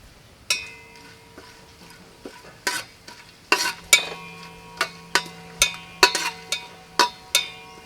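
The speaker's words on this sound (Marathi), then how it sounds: "1-2 मिनटं आपण आता ह्याला परतून घेऊया." Cinnamon, cloves, black pepper and cumin being sautéed in hot ghee for pavta rice, giving a steady sizzle broken by sharp metallic clinks of a spoon stirring against the pan, close and without talk.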